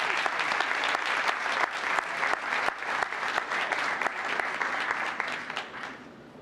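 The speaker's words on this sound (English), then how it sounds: "Big round of congratulations." Town council meeting audience breaks into a sustained round of applause, dense steady clapping from many hands that holds at full strength before tapering off near the end.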